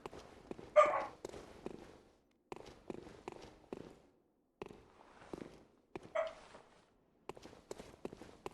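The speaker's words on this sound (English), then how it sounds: "Apologize for the dogs barking in the background." Real dogs bark in the background during Bloodborne gameplay in Old Yharnam, with a couple of sharper, louder barking bursts standing out among quieter intermittent thumps and noises.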